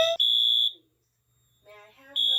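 A Notifier NFS2-640 fire alarm system sounds a sharp, loud electronic tone in short bursts, broken by a gap where a recorded announcement voice speaks before the tone resumes.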